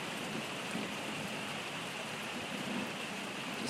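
Rain pours steadily during a severe July thunderstorm, an even, continuous hiss of drops hitting the ground and nearby surfaces with no break.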